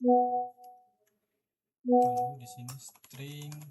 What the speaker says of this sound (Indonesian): maaf itu suara handphone saya ya,